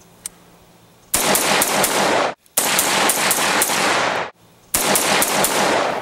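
Bursts of rapid AR rifle fire through a standard muzzle brake crack loudly and close, three long strings of shots separated by short pauses, with a faint single sharp click beforehand.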